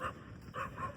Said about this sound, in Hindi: इधर तो कुत्ता भी अंबर भौंकने लग गया।